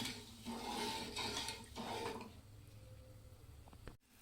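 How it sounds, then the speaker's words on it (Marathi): Sugar syrup for gulab jamun stirred in a pan over a high gas flame: soft scraping and a few metallic clinks of the spoon early on, then a quieter low hum of simmering. "आपल्याला हे पाक होईपर्यंत असं खाली वरी करत राहायचं आहे"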